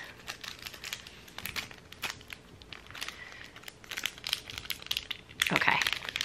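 Animal Crossing amiibo card packs are opened, their wrappers crinkling and tearing in quick, close bursts, with a louder rip near the end and occasional speech between.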